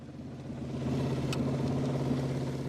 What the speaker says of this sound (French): J'aime beaucoup le moteur, il est puissant.